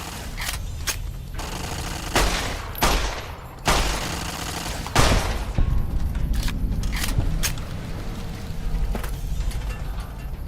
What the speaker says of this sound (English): now they are shooting